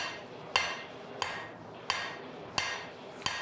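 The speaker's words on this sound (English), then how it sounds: "So first we're just hammering down." Five sharp hammer blows strike a heated railroad spike on an anvil at a slow, steady pace about two-thirds of a second apart, each a loud metallic clang with a ringing tail, close by with no talking.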